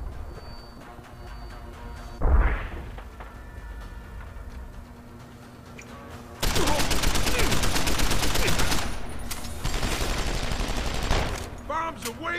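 Sustained automatic combat-rifle fire in Deus Ex: Human Revolution, loud bursts lasting several seconds, with a sharp blast just before and game sounds around it.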